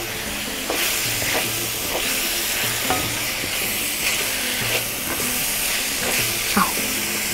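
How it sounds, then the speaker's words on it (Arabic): Seafood rice stirred in a hot pan, a steady sizzle and frying hiss with repeated scraping strokes of a spoon across the pan, close and continuous without talk. "مش عايزة اهري السمك فانا هبطل كده تقليب"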